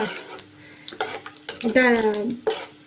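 Chana dal and urad dal tossed in a pan for mango chitranna, with close clinks and scrapes of a spoon against the metal and a soft sizzle underneath. A brief high tonal squeak from the utensil rises midway.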